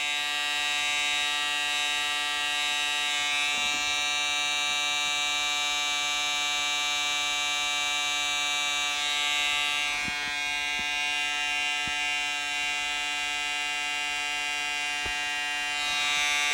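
A Fieldpiece DDSM1 draft simulator fan runs on high speed with a constant electric hum and whine that continues unbroken, with a few faint clicks and no talking.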